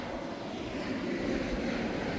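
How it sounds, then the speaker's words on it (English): An airplane passes over the LAX/Metro Transit Center, a steady, loud, broad engine roar that fills the whole stretch without a break. "oh, look, a plane!"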